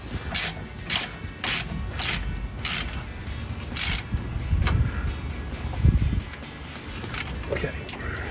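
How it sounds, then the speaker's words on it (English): A ratchet tightens the bolts on rear lift blocks of a Toyota Tacoma. It gives a series of sharp, rhythmic clicking bursts over steady background noise, with nearby clanks of metal. "don't forget our ratchet, our combination wrench"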